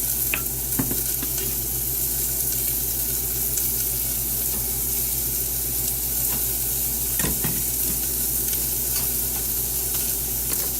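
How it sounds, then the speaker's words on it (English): Vegetables sizzle and fry in cooking oil in a pan while being stirred, a loud continuous sizzle close up with occasional clinks and scrapes of the utensil, no talking. "I'm going to add a little bit of cooking oil to that, and then we're going to throw in the vegetables we have."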